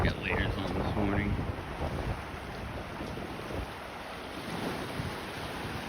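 Wind roars steadily across the mic on a Gulf of Mexico beach at sunrise, a loud broadband rush with surf beneath it, and a voice is heard briefly near the start.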